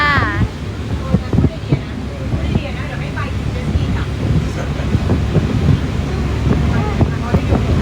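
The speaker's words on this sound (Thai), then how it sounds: "ลมแรงมากค่ะ" Heavy wind buffeting the microphone with a constant low roar, mixed with a rushing water and engine rumble, as voices talk over it.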